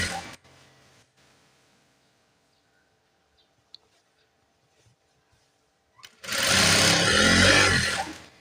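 A sewing machine stitching a nurse's uniform top runs in a loud continuous burst near the end, after a long stretch of near silence with faint small handling noises.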